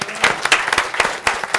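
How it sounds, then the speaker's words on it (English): Applause from a small audience at a city council meeting, scattered claps forming an uneven patter of distinct hand strikes that rises and dips over a brief burst. "let's give them a big round of applause"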